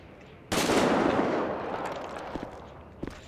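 A video game gunshot sounds as one sudden, loud blast that rings out and slowly fades, followed by a couple of small, sharp clicks.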